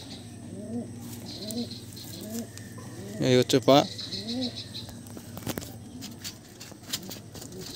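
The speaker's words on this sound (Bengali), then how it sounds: "লেস কালো পায়রা, এটা হচ্ছে মানে পিলং জাতের পায়রা" Pilong breed pigeons, black laced, coo in repeated soft throaty phrases close by, with someone talking briefly over them in the middle.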